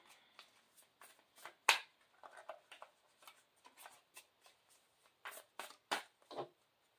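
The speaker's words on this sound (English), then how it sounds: "I like to shuffle like that" Soft, papery riffles and slaps of large tarot cards being shuffled, in quick irregular bursts with a louder snap partway through, close and quiet.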